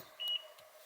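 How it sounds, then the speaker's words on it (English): A single short electronic beep chirps from the security system of a Mazda FC RX-7 with a swapped 13B-REW engine. It is brief and clear in a quiet garage, followed by a faint second tone. "A beep! Security light."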